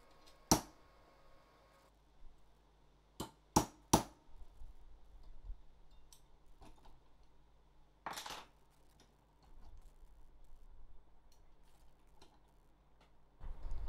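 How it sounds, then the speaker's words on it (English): Center punch striking the marked hole positions on a PC faceplate: a handful of sharp metallic taps, one alone and then a quick cluster of three, then one more later, with quiet handling noise in between. "Now I'm gonna center punch them"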